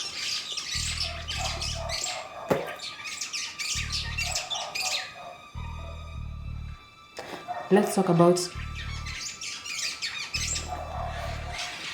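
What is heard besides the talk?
birds squawking and chirping outdoors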